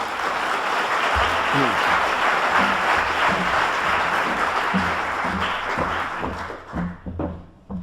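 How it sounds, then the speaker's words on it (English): Warm applause fills a lecture hall at a panel event on Arab women and gender equality as a speaker takes the floor, loud dense clapping with a few footsteps and thuds, fading out near the end. "may I invite you to take the floor with a warm round of applause"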